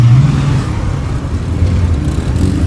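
A Dodge Charger's 440 V8 engine rumbles and revs steadily nearby, a deep throaty drone with a slight rise in pitch.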